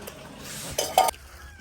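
Metal pots and dishes clink during washing, with two brief, sharp clanks close by over a soft background of handling noise, no talk.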